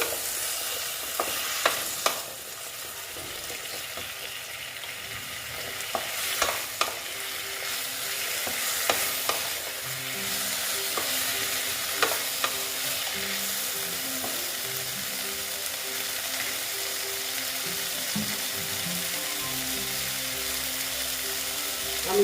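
Mustard seeds fry in a pan for a drumstick curry, giving a constant sizzle with occasional light stirring clicks and scrapes over it, close up and without speech.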